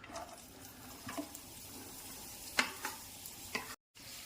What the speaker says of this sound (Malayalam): ഇനി സവാള ഇടാം